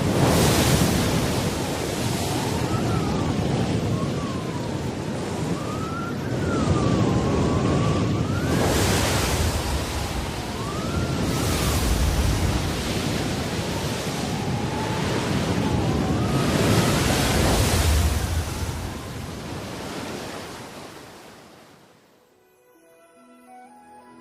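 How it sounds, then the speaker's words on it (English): Roaring hurricane wind over a stormy sea, crashing waves and a broad constant howl with surging gusts and a faint whistling tone, loud and continuous before fading out near the end. "Not merely a gale, but a full-force hurricane."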